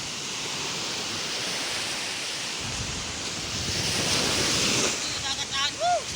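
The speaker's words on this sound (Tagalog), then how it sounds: "Yan, kita nyo yung alon na yan." Sea waves break on the shore in cold weather: a loud, continuous rushing wash that swells after a few seconds, with a short high whistle near the end.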